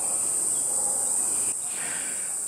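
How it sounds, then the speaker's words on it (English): Cicadas in Australia drone in a steady, very high-pitched continuous buzz, loud and unbroken throughout, with faint background noise beneath. "And the cicadas are carrying on again today"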